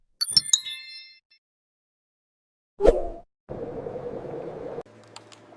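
A bright bell ding rings out sharply at the start and rings down over about a second, followed after a pause by a soft plop and then low, steady background sound.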